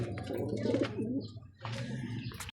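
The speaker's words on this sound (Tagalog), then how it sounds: "ito yung ibon ni Boss J, ayan oh, yung black checkered na yan" Soft, low cooing of a black checkered racing pigeon repeated in a rolling rhythm, close by, with some background noise.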